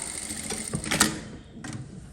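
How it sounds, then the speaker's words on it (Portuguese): A sewing machine stitches an invisible zipper, running in short bursts of fast rhythmic clatter with a louder mechanical clack near the middle, close and clear with no speech. "Faz o retrocesso e segue aí costurando até o final."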